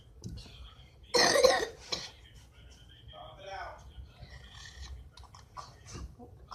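One person gives a sharp burst of coughing followed by a few smaller throat sounds and faint mouth noises, close by in a quiet room.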